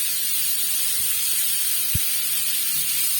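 Radish and onion sauté in oil, giving a steady, broad hiss with one short low thump midway, close and even throughout with no voices.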